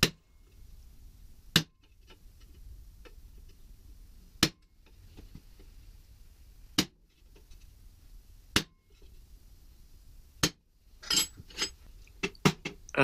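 Sharp metallic hammer blows on sheet metal being driven into a template slot ring out one at a time at irregular intervals, followed by a quicker cluster of strikes near the end, over a quiet background.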